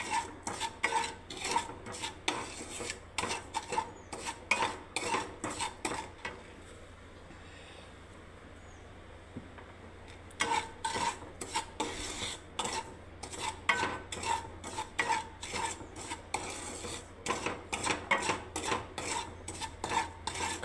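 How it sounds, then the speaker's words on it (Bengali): A metal spoon scrapes and clinks rhythmically against a pan as spices are stirred in butter, in quick repeated strokes that pause for a few seconds of near silence before resuming. "নাড়তে দেখুন বন্ধুরা, নাড়তে থাকছি।"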